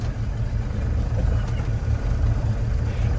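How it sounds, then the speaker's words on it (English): A vintage 4x4 engine idles steadily on a snowy off-road trail, a low, even rumble with a constant pulsing beat and no revving. "Finally idling up nice."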